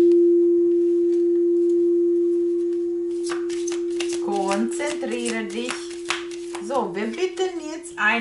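Tarot cards shuffled by hand during a reading, giving soft riffling and flicking bursts with a sustained tone from a crystal singing bowl ringing underneath throughout.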